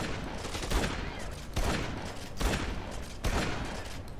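Rapid gunfire in the video game Dead Rising 2 comes as dense, loud bursts of shots, with four heavier booming peaks about a second apart over continuous crackling fire.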